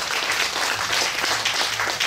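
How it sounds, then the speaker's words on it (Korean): A crowd at a Korean pumba folk performance applauds, a dense, steady wash of clapping that carries on throughout without pause. "여러분들 박수 한번 쳐주시고 예"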